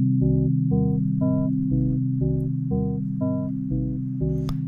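A polyphonic synthesizer built in Max for Live plays a steady rhythmic sequence of chords over a sustained droning low note, each chord's longer release tail overlapping the next, clean and fairly loud with no talking.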